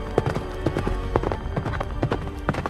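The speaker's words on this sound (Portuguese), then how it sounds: "Alcançou seu cavalo rapidamente, montou o menino na sua frente e partiu novamente" Horse hooves clip-clop quickly and steadily as a rider gallops away carrying a boy, close and loud, with a dense run of hoofbeats and no voices.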